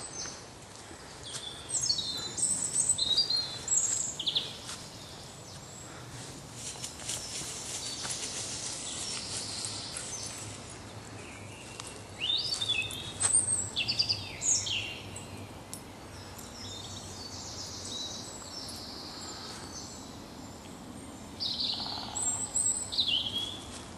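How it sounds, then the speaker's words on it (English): Birds chirp and trill outdoors on a spring morning in bursts over a soft, constant background hum, several calls overlapping at moderate distance. "birds singing"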